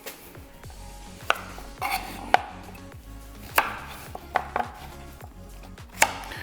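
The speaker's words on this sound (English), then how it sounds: "So these we're just gonna do a nice coarse chop as well." A knife coarsely chops carrot, celery and onion on a cutting board for albondigas meatball soup, with a string of sharp, irregular near thuds alongside lighter cuts and no talk.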